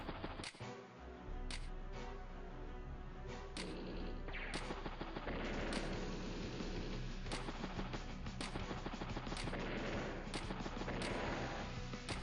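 Game battle in Advance Wars: Days of Ruin, with bursts of gunfire and artillery blasts in steady repeating volleys over a continuous rumbling backdrop, fairly faint overall.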